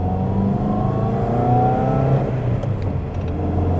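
Subaru STI kei car's small engine revving hard as it accelerates, a loud, steady rising drone with a whirring edge that continues without pause and with no talking.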